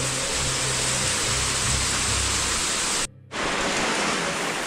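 Heavy rain pours onto a shed-like shelter over the Tirupati to Tirumala walking footpath as a dense, loud, continuous hiss, briefly cutting out for a moment before resuming.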